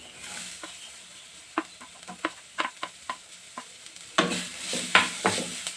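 Quiet sizzling of garlic, onion and carrots frying in a pan with scattered clicks and taps of a utensil stirring, growing louder and busier toward the end.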